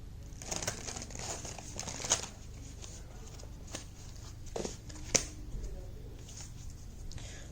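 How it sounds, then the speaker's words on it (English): Soft crinkly riffling and shuffling of tarot cards, with a few sharper snaps and taps, quiet and close with no talking. "Let's shuffle this a little bit."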